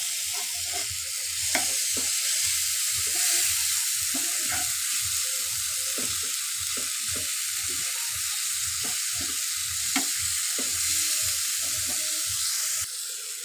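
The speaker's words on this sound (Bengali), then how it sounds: "এবার এর মধ্যে দিয়ে দেবে টমেটো। আবারও নেড়ে চেড়ে নেব সুন্দর করে।" Tomatoes fry with spices in a mustard fish curry pan as they are stirred, making a continuous sizzle broken by a steady rhythm of repeated scraping strokes, with no voices.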